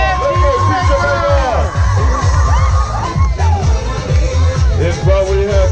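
A loud crowd cheers and shouts for teams at a Tongan sports event, with whoops and excited voices over a PA announcer speaking, one continuous dense roar.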